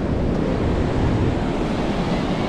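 Sea waves at Scheveningen beach in The Hague, a continuous broadband roar of surf mixed with heavy wind buffeting the microphone, steady and loud throughout with no voices.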